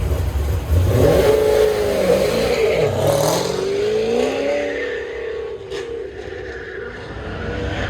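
A 1972 Chevy Blazer on a C5 Corvette frame on an autocross run, engine revving hard and loud up close, pitch climbing and dipping through shifts before fading slightly as it pulls away.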